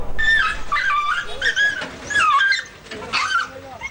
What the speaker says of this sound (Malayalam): ആലുവയിൽ നാട്ടുകാർക്ക് ഭീഷണിയായ തെരുവ് നായകളെ കൂടുകളിലേക്ക് മാറ്റി തുടങ്ങി.